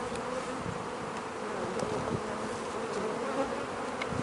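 Honeybees buzzing around an open hive during a spring nectar flow, a steady close drone of many wings with individual bees passing near, no voices.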